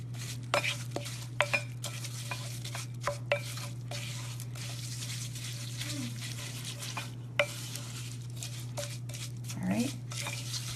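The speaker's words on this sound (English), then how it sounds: "Mix that up." Oat mixture stirred with oil and apple juice in a bowl, a series of close clicks and taps of a utensil against the bowl over a steady low hum, with a brief sliding scrape near the end.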